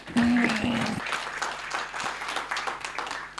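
A conference audience applauds its panelists at a jobs forum in Kenya, with dense, sustained clapping from a crowd after a short spoken prompt.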